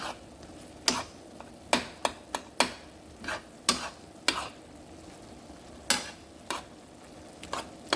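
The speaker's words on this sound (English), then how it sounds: "And then after I finish stirring this around" A spoon scrapes around a pot of turkey chili with beans in sharp, irregular strokes, each one a brief clack or scrape against a quiet background. No voices are heard.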